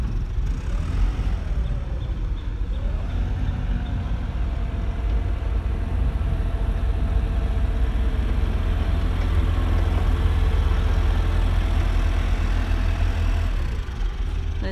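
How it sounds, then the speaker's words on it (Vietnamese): A Mitsubishi FDE20T 2-ton diesel forklift engine runs steadily with a continuous low rumble and a faint mid-pitched whine that shifts once or twice. Close and alone, with no talking. "Các bạn có thể nghe được tiếng nổ của động cơ và xe chạy rất là bon ạ."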